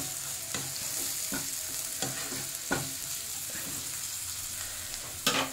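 Spices such as turmeric, coriander powder, cumin powder and Kashmiri chili powder fry in a pan for cabbage manchurian, a steady soft sizzle broken by several sharp scrapes and stirring knocks, close and moderately loud with no talk.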